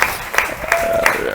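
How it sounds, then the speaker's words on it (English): A table tennis crowd at a state championship youth boys final bursts into applause, dense clapping with a few sharper claps standing out, loud and close, lasting about a second and a half. "the crowd goes up wild"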